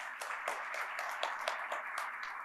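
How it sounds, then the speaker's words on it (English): An audience applauding a guest at the opening of an education conference, steady dense clapping heard from a distance and fairly faint, with no talk. "Once again, give a big applause to him."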